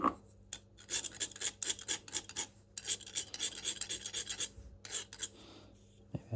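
Metal file rasping back and forth along the edge of a Juuma No. 4 bench plane, a steady run of close, gritty strokes with brief pauses between them.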